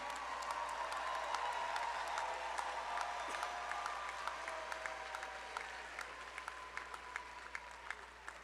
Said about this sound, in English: Let's make like Saturday night at Tiger Stadium and give it up for Dr. Vincent D. Jemison.